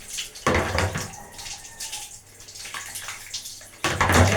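Warm water gushes and splashes during a dog's bath, close and loud in two strong bursts with quieter trickling and dripping between them, and no speech.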